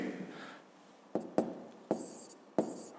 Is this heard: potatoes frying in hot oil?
no